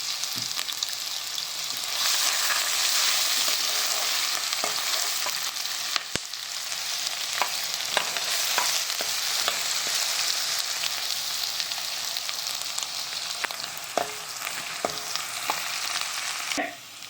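Garlic and ginger fry in hot oil with a loud, continuous sizzle up close, broken by scattered spatula taps and stirring clicks throughout, with no talking.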